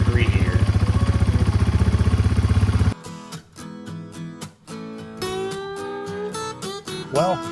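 A Yamaha TW200 motorcycle engine idles after a tune-up on a cold start in freezing temperatures, with a loud, close, steady rapid thumping for about three seconds before music takes over.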